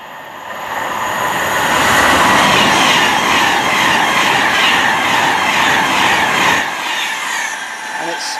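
A Pendolino express train on the West Coast Main Line, bound from London Euston to Glasgow Central, roars past close by at South Kenton, its rushing wheel noise swelling loud and holding before dropping away sharply near the end.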